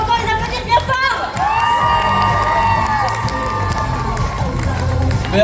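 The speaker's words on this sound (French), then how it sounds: "On peut encore les applaudir bien fort" A crowd at a cosplay contest cheers loudly, with high shouts, whoops and children's voices over clapping, continuous and close throughout.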